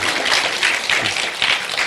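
Youth gathering audience claps steadily in a hall, a dense, close burst of many hands continuing for the whole stretch.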